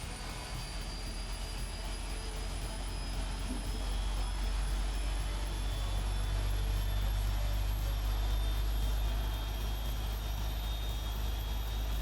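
Airliner jet engine on a PMDG 777 in a flight simulator spools up with a steady low rumble and rising high-pitched whine, growing gradually louder over twelve seconds with no voices.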